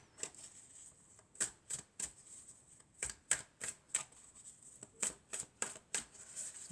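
Tarot cards are shuffled and cut by hand, a series of quiet crisp flicks and snaps in an uneven rhythm, close and soft.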